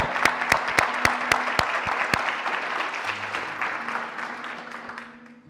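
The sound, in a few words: audience applause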